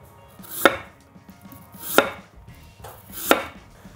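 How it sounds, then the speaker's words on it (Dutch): A knife slices an apple paper-thin on a cutting board, giving three distinct crisp cuts spaced evenly about every 1.3 seconds, each ending in a sharp tap on the board, with no voices. "Ik ga de appel flinterdun snijden."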